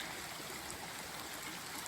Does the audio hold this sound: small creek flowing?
yes